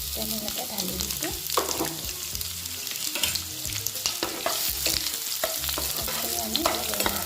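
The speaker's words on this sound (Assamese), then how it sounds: "আমি অলপ ৰঙচুৱাকৈ ভাজি ল'ব লাগিব" Three large chopped onions frying in a pan while being stirred, giving a steady sizzle broken by repeated scraping and clinking of the spoon against the pan, close and fairly loud.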